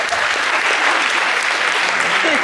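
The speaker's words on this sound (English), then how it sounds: "give Emma and Destiny a big round of applause" Audience applause for two young participants, Emma and Destiny, at a campus event, a steady dense wash of clapping from a crowd that holds even for the whole stretch.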